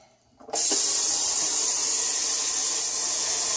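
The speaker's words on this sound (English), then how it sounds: "I have to fill this big cooler up with water" Tap water gushes into a large cooler at a steady, loud rush with a bright hiss, starting abruptly after a brief quiet moment and continuing without a break.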